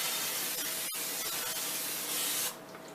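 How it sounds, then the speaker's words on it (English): Cooking spray hisses steadily from an aerosol can into a slow cooker crock for a veggie lasagna, one continuous close spray of about two and a half seconds that cuts off abruptly. "you're going to spray your crock pot with the cooking spray"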